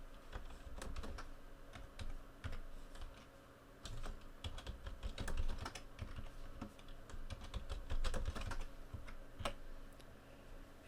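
A computer keyboard is used to type a password while setting up a WordPress web server on a Raspberry Pi 3. Quick, irregular clicking keystrokes run through the whole stretch at moderate level, with no talking.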